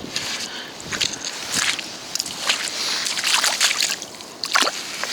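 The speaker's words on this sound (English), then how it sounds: "Yeah, let's give it a little rinse." A mudlarking find gets rinsed in River Thames water on the London foreshore, with close, irregular sloshing and splashing that comes in bursts across the clip.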